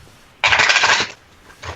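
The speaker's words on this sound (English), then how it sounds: "I don't know if y'all can hear me shuffle the cards." A deck of tarot cards is shuffled in one quick riffling burst lasting under a second, close up, followed by a brief second rustle.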